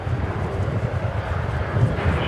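An American Airlines jet in Stand Up to Cancer livery arrives at DFW airport at night, a soft distant engine rumble with light wind noise over a short stretch.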